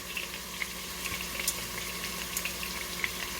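Beef searing in a hot pan for birria tacos gives a steady, dense sizzle with scattered pops and crackles, close and moderately loud, with no voices over it.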